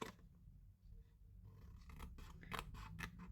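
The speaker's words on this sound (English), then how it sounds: "So you're basically cutting out that score line that you did." Close, quiet snips of scissors cutting along a score line in card stock for a note-card wrapped box, starting after a brief pause and continuing as several crisp, rhythmic cuts.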